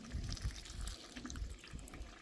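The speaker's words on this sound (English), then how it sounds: "all that water that come down in the bottom of this tray, I'm gonna pour it right back in there" Drained water from a plant pot's bottom tray being poured back into the pot, a short gurgling, splashing pour with uneven sloshes, close and alone.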